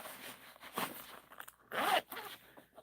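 A zipper on a Lord of the Rings messenger bag being pulled along a pocket in a few quick rasping runs, the longest near the end, heard up close with no talking.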